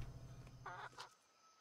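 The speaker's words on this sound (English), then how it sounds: "What kind of chicken is this?" A chicken in the video game Atlas gives a short burst of clucks, soft and distant over a quiet background hum that fades away at the end.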